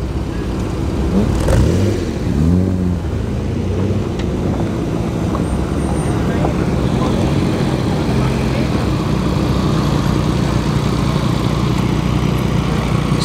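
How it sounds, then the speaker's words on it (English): A Ford GT40 rumbles with a low, continuous engine note at an outdoor classic car show, with a brief rise in revs early on and faint crowd chatter in the background. "You can hear and feel the rumbling of the Ford GT40."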